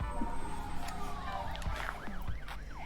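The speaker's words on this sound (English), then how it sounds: "Soon you leave the sirens behind." Video game sirens in Boyfriend Dungeon wail, sweeping up and down at moderate distance, with a rapid warbling pattern taking over near the end over a low engine-like hum.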